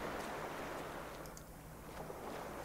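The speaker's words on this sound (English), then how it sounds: "That sounds like ocean." Ocean waves from The Last Door video game, a steady broadband wash of surf with a faint low hum beneath, continuous and fairly quiet throughout with no talking.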